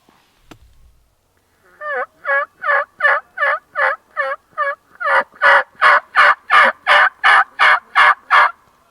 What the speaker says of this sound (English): I've got probably about 3 groups of turkeys around me, 3 or 4 that are sounding off